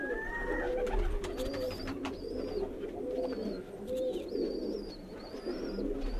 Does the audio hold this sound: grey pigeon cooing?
yes